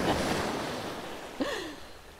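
Waves and surf washing on a beach, a steady broad rush close by with wind buffeting the microphone, and a brief faint high call near the end.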